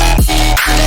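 Short burst of a distorted synth lead drenched in reverb, with disperser and OTT compression, sliding pitch and a dense buzzing tone, heard alone in an electronic drop.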